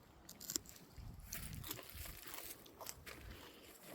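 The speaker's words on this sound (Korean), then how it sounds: "이거 완두콩 먹는 소리거든요" Raw fresh garden peas being eaten straight from the plant, faint close crunching and chewing with irregular crisp bites in a quiet setting.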